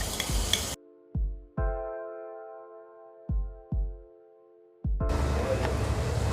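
Cumin seeds and ginger-garlic paste hit hot oil with a bright hiss at the start, then a few ringing metallic taps and clinks. A loud, steady sizzle returns at the end.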